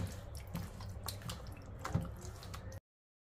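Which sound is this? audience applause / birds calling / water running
water running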